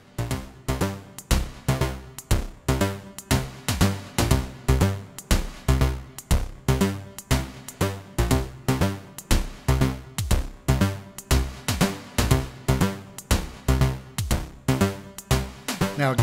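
A VCV Rack modular synth pattern set to 50% clock swing gives steady, loud percussive hits in an uneven long-short groove, each note with a sharp attack and quick decay, repeating for the whole stretch with no voices.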